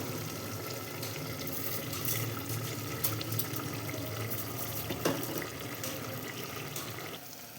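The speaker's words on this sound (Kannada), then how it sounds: "ಈಗ ಇದಕ್ಕೆ ಅಕ್ಕಿ ತೊಳ್ಕೊಂಡಿರ್ತೀವಲ್ಲ, 2 ಗ್ಲಾಸ್ ಅಕ್ಕಿ ತೊಗೊಂಡಿದ್ದೀನಿ" Rice being rinsed under steady running tap water in a sink, a continuous close rushing flow with small splashes from the grains.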